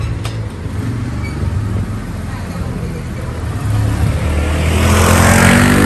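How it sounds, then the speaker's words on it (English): A big motorcycle rides through narrow city streets in Medellín, Colombia, its engine a continuous close drone that builds steadily louder toward the end, with no talk. "Just gonna ride through these little streets again to get out of here."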